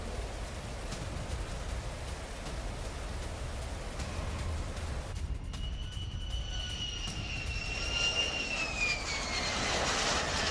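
Russian and Italian fighter jets fly over Poland, a steady broad engine roar rising into a whining high-pitched jet tone that sweeps downward as an aircraft passes, loud and continuous throughout.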